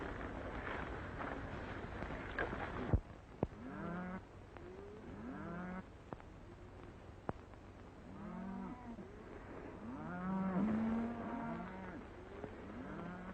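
A cattle herd moos repeatedly over a steady low rumble of hooves and wind in a Western cattle drive stampede, with several overlapping calls, some near and loud, others farther off, after an initial burst of thudding noise.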